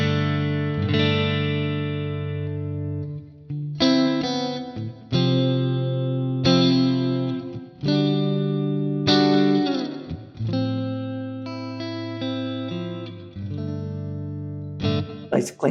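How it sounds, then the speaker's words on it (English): An electric guitar played through a Quad Cortex on its Chorus Clean preset rings out alone in sustained, shimmering clean chords and single notes, with loud, steady strums spaced across the phrase and a wide chorus sheen. "you can see I'm on a preset called Chorus Clean"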